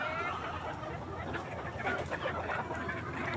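Chickens feeding on leftover jackfruit scraps give off a dense, steady stream of clucking and scratching, close and continuous with no clear pauses.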